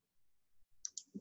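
A computer mouse right click while working in a spreadsheet, a couple of sharp, quiet clicks in close succession near the end of an otherwise near-silent moment.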